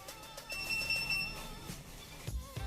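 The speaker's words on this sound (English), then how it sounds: "the device will sound 3 times, and the lights will blink" A Biofrequency Generator Pro gives a thin, steady electronic tone lasting under a second, followed by quieter clicks and handling noise.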